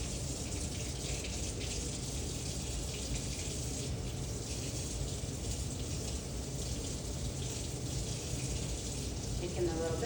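Warm water pours steadily into a foot-soaking basin, a constant rushing hiss that stays even throughout.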